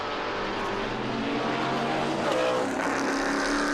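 Formula 5000 race cars entering the hairpin at Hampton Downs during a historic racing festival, engines roaring steadily and loudly throughout with a dense, continuous mechanical drone and no pause.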